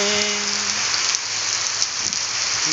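Steady, close rain pours down in an even hiss, with a soft low hum fading out in the first second.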